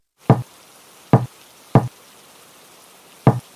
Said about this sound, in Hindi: दरवाजे पर दस्तक हुई।